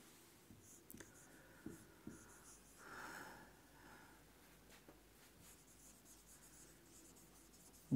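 Pen on paper writing out notes in a quiet room, soft close scratching strokes and taps coming in short irregular bursts, faint and alone.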